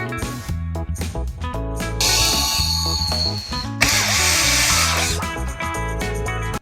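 A power driver runs a screw into a Tamiya CC-02 RC car. It whirs loud and close in several bursts, the longer later runs rising to a strained high whine between short pauses.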